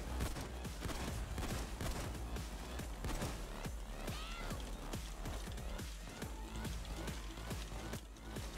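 Shotgun fire in a PAYDAY 2 heist amid dense gunfire, repeated sharp blasts over a busy, loud mix of other shots and game noise, with no talk over it.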